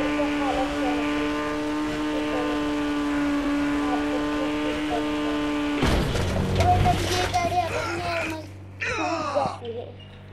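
A Lamborghini in the Indian Bike Sim video game holds a steady high engine whine at speed, then the pitch drops sharply with crunching impact sounds and a jumble of game effects, as if after a crash.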